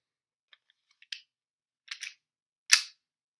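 A WE Glock 17 gas airsoft pistol fed from a plastic magazine and running low on gas fires a few sharp, isolated cracks, preceded by faint clicks, in an otherwise quiet space.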